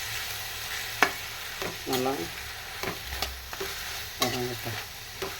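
Mint leaves sauté in a pan with a steady low sizzle, broken by scraping stirs at irregular intervals. A voice speaks briefly over the cooking.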